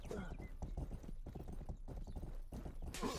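Horse hooves clip-clopping in the video game Rustler, a steady rapid trotting rhythm running throughout under continuous talking.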